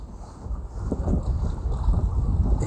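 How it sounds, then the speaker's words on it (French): A motorless felucca sails on the Nile, giving a steady, close rush of wind and water with low rumbling buffeting that continues throughout, with no engine and no voices. "il n'y a pas de moteur en filouque. C'est juste avec la voile."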